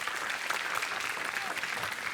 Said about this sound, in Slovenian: še enkrat en velik aplavz za osnovno šolo Dobje